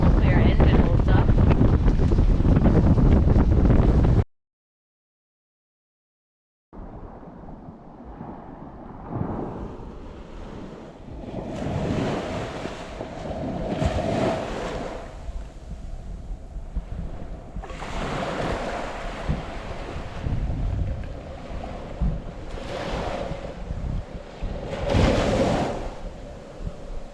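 Wind and waves buffet a sailboat heading into a headwind. Gusty wind noise on the microphone and repeated surges of surf and spray recur every few seconds, with occasional voices underneath, after a brief dropout near the start.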